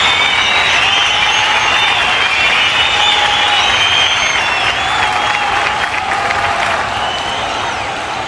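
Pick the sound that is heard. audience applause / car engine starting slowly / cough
audience applause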